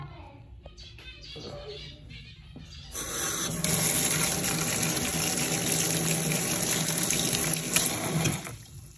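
Soybean sprouts are rinsed under running tap water, a steady loud splashing rush that starts quieter and swells after a few seconds, then continues strongly before easing off near the end.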